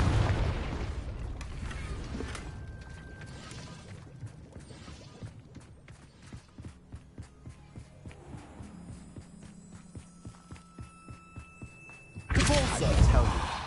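A Confringo spell in the game Hogwarts Legacy bursts into a loud booming explosion near the end, after an earlier blast and a stretch of scattered thuds and crackling impacts.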